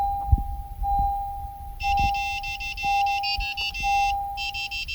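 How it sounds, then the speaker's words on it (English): Inside a 2014-2020 Honda Odyssey during key fob programming, a series of rapid electronic beeps chirps in clusters over a steady low tone, fairly close and clear with no talking. "the beeping sound indicating programming is successful"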